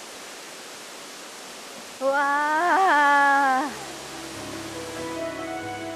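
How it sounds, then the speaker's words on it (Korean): The Diamante waterfall in Costa Rica roars as a steady, broad rush of falling water. A person gives a drawn-out exclamation of wonder over it partway through, and a voice continues faintly afterward. "1600개 계단을 다 오르니 곧이어 시원한 폭포 소리가 반깁니다"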